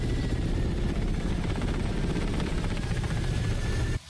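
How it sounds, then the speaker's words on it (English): A Ka-50 Black Shark helicopter in the DCS flight simulator drones with a steady, loud rotor and engine roar that continues evenly, then cuts off abruptly at the very end. "The KA-50 is a pretty deadly helicopter"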